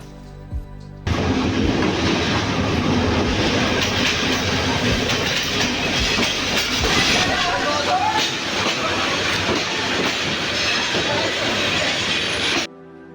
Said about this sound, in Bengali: বন্ধুরা ফাইনালি আমাদের ট্রেন চলে এসেছে দেখতে পাচ্ছেন আলো দেখা যাচ্ছে